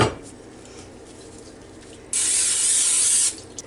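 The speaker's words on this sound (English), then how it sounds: "our first thing that we've got to do is we're going to spray just a little bit" A short hissing burst of cooking spray onto a 2-quart casserole dish, about a second long, steady and close, after a quiet pause.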